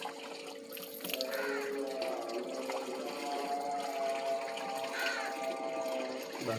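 Water runs steadily from a tap, a continuous close splashing flow that swells slightly after the first second and holds without pause; no talk over it.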